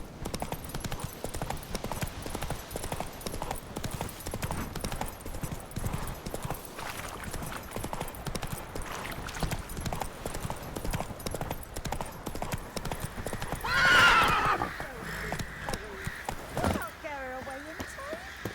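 Roach, a horse in The Witcher 3, gallops with a steady rhythm of close hoofbeats throughout, and a whinny rises near the end. Voices talk over the hooves at times.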